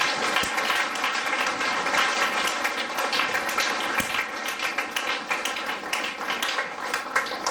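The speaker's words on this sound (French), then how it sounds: "Est-ce qu'on peut acclamer le Seigneur?" A church congregation at a Congo-Brazzaville worship service applauds to acclaim the Lord, a dense, steady crowd clapping that fills the space throughout, with occasional sharper individual claps standing out.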